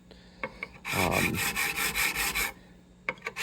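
Rhythmic rubbing and rasping of sanding on stainless steel guitar frets of a 1969 Stratocaster, a burst of quick back-and-forth strokes close up, with light taps before and after.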